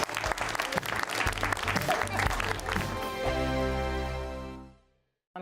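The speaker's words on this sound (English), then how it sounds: "a big round of applause" Studio audience applause on a TV news talk show, a full, dense wash of clapping that gives way to a sustained musical sting, which fades out before a brief cut.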